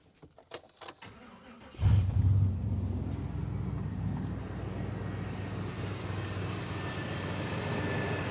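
A few faint clicks and rattles, then a 1995 GMC truck engine with a no-spark fault turns over and catches near the start, settling into a steady low rumbling idle.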